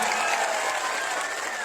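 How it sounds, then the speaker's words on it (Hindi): A crowd at a political rally for Bihar elections claps steadily and densely, a brief, moderately loud burst of continuous applause with no pauses. "एक बार कस के ताली बजा के अपना अपना स्वागत करिए"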